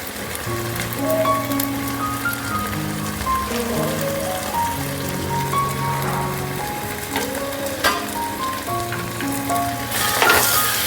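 Spice powders frying with tomatoes in a pan for fish biryani, a steady close sizzle running throughout with faint tonal music layered over it and no talking.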